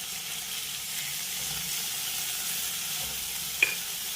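Chopped ripe tomatoes and green chillies fry in a pan with a steady, even sizzle and hiss, close and uninterrupted, with one brief faint clink near the end and no voices.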